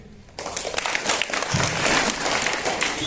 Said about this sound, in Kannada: ಇಲ್ಲ ಅನ್ನೋದಾದ್ರೆ ಚಪ್ಪಾಳೆ ತಟ್ಟಿ.